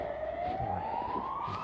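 An ambulance siren wails continuously at a distance, its steady tone slowly rising in pitch as it moves, heard faintly over quiet outdoor background noise with no talking.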